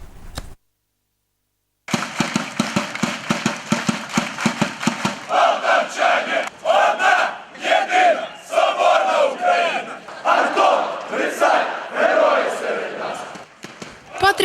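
Football ultras in Poltava, a dense crowd chanting and roaring patriotic shouts before a match, loud and rhythmic with clapping-like beats, swelling into sustained massed voices.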